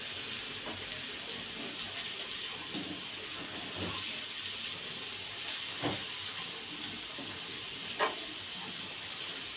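Garlic frying in a pan gives a steady, close sizzling hiss, with occasional soft scrapes as it is stirred and one sharper clack near the end.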